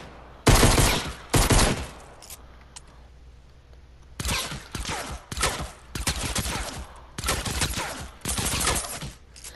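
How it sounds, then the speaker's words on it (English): Automatic fire from a gun in Fortnite, loud rapid bursts of repeated shots separated by short pauses, with several sustained volleys in a row and no talking. "it's going to continue firing"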